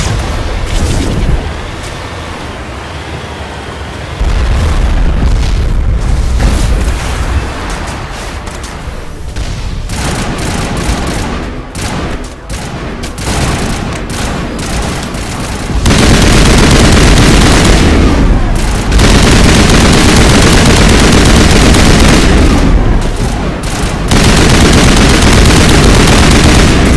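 Sustained artillery fire and automatic gunfire from a Mass Effect battle on Virmire, loud and continuous with repeated booms and rattling bursts, dense throughout with brief lulls.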